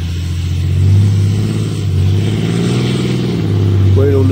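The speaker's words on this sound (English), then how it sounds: "Wait on this car to go by." A passing car on a busy road gives a steady, fairly loud engine drone that swells and eases over a few seconds, with a voice faintly heard near the end.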